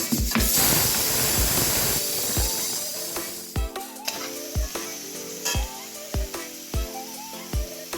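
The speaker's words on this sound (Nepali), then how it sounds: "हाम्रो आलु फ्राई हुँदैछ।" Potatoes fry in a pan for a Nepali potato and bethu greens dish, with a dense sizzle that is loud for the first two or three seconds and then settles, broken by repeated sharp knocks of garlic being pounded nearby.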